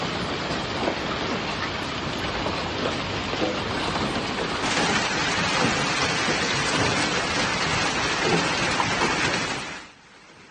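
A heavy May hailstorm in China pelts roads, sidewalks and roofs with a dense, steady roar of ice striking hard surfaces, loud and continuous with a low rumble beneath, briefly intensifying midway before cutting off abruptly near the end.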